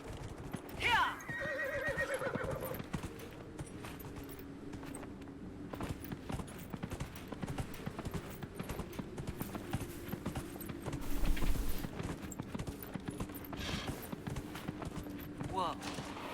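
Horse in the video game Dragon Age Inquisition whinnying loudly near the start and again later, with steady hoof clip-clops throughout over game background sound.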